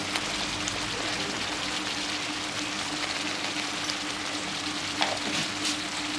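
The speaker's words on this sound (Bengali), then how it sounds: "এটাও হালকা ভেজে নিব।" Spices with turmeric powder and salt frying in oil in a pan, a continuous dense sizzle and crackle with a faint scrape of stirring, close and steady, no talking.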